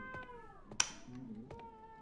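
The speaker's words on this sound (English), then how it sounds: "the cat sound is actually in the game" A cat meows in the video game 12 Minutes, two short meows with a sharp click between them, heard plainly over a soft steady background tone with no talking.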